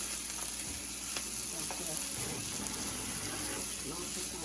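Boiled mushrooms are stirred together in a pan, making a steady wet sizzle with soft scraping movements throughout, fairly quiet and close.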